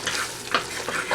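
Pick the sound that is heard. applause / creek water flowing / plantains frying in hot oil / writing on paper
plantains frying in hot oil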